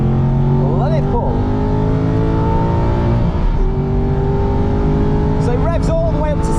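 An Aston Martin V8 Vantage GT4 race car engine revs hard while pulling through third gear on a track lap, a loud continuous rising roar with gear-driven whine. Brief sharp chirps cut in near the start and toward the end.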